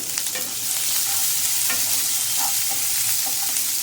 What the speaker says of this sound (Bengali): এক মিনিট মতো নেড়ে নিয়ে এর মধ্যে দেব পেঁয়াজ কুচি আর কাঁচা লঙ্কা কুচি